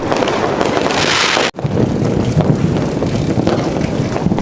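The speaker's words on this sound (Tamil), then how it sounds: "ஃபர்ஸ்ட் வந்து பேடிஎம் 30 ஷாட்ஸ்னு, இது கிராக்லிங் கிடையாது, மல்டி கலர் தான், ஒரு 30 ஷாட்" A 30-shot multicolour aerial firework goes off at a family Diwali celebration in Chennai, a loud continuous rushing burst outdoors with wind buffeting the microphone.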